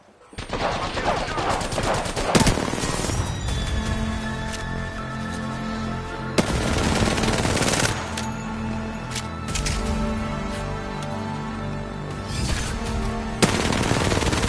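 Automatic gunfire in the video game Apex Legends, long rapid bursts that are loud and close, running across the whole stretch with brief breaks and sharp sustained tones layered underneath.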